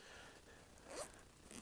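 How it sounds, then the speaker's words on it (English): A YKK reversed waterproof zipper on the front pouch of a Mystery Ranch Hot Top wildland fire backpack is pulled in one short, quiet rasping run, peaking midway and trailing off. "these are sort of reversed waterproof zippers. They are YKK zippers."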